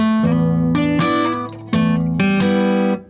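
An electric guitar plays a blues riff without string muting, ringing chords sustaining and bleeding into each other rather than cut short, loud and close.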